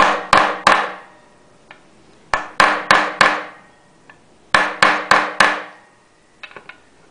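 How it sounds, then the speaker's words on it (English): Metal being tapped flat to form a seal on a 1968 Johnson 6 hp outboard carburetor: crisp, ringing hammer taps in three clusters of four, close and loud, with a few lighter taps at the end and no speech. "I'm just going to tap it like this."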